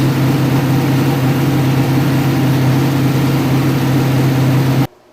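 An engine idles with a loud, steady low drone and a constant hum, running evenly without change until it cuts off abruptly near the end.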